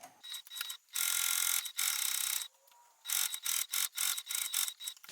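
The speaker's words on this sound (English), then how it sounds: "I'm going to sew along that seam" Sewing machine stitching a seam on a seatbelt belt bag made with Silent Hero tape, loud rapid mechanical whirring in start-stop bursts of varying length separated by short pauses, close and with no talking.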